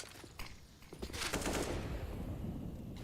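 Rapid gunfire from a Counter-Strike match between Vitality and Gambit at IEM Katowice 2022, with pistols in use; a dense run of shots builds to a sustained, loud burst of crackling fire.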